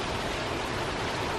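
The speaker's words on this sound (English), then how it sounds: "No winds, just a little bit of rain, like a regular storm, just like a regular rainy day." Light rain falls in the calm before Hurricane Irma, a steady soft hiss of drops on surfaces, even and unbroken, with no wind or voices.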